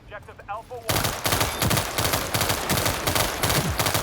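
Rapid bursts of loud automatic gunfire from the World War 3 video game, with a short stretch of talk at the start before the sustained shooting takes over.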